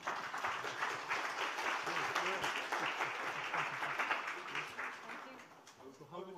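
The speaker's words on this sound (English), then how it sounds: "So please join me in clapping our speakers." Forum audience applauds the speakers with dense, sustained clapping from a large crowd in a hall, moderately distant and tapering slightly toward the end.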